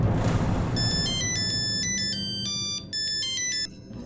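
A phone's electronic ringtone plays a quick melodic series of bright tones while a call is placed, fairly near and steady for a few seconds, briefly cutting out once, with no speech over it.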